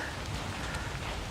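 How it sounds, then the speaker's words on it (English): Rain falls in a steady, even hiss for a brief moment, with no other sound standing out. "You can see it's raining now."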